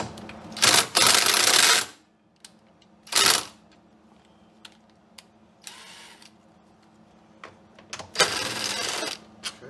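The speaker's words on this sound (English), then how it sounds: "what we're going to do is remove those two bolts" Bolts are removed from a Honda EU6500is generator with a power tool, heard as a few loud whirring bursts with quieter clicks and metal taps between them.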